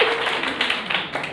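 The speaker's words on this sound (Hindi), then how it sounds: "ताली बजा दो बेटा आपके लिए।" Schoolchildren in a classroom give a short round of clapping for a classmate, a quick burst of hand claps close by with no talking over it.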